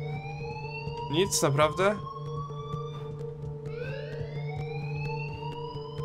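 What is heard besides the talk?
alarm ringing in video game Life Is Strange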